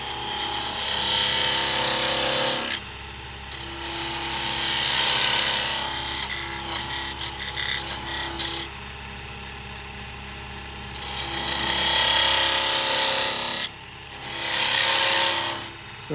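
A parting tool cuts tenons into a wooden peppermill blank spinning on a wood lathe, making loud, close scraping and rasping bursts that come in several long passes separated by short, quieter pauses.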